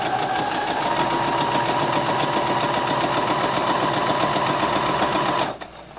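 A home sewing machine runs steadily stitching quilt pieces for a beginner's quilt, a fast, even mechanical whir held close and loud for about five seconds before stopping abruptly.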